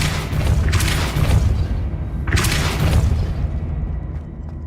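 Depulso spell impacts in Hogwarts Legacy, two loud booming blasts each with a sharp crackling burst, over a constant low rumble.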